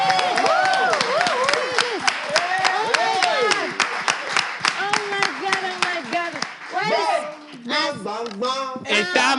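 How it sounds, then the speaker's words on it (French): A crowd at a live French-language show claps repeatedly for a woman being called up, the sharp clapping running under a loud voice that speaks over it throughout. "Venez, on applaudit pour madame, s'il vous plaît."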